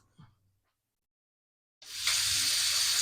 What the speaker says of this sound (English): Let me rinse these ribs.